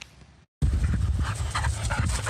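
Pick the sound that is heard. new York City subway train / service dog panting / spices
service dog panting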